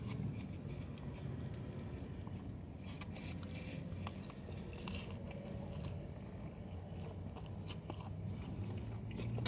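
Bites and chewing of a Hot Heads burrito bowl, close crunchy mouth sounds repeating irregularly over a faint steady background hum.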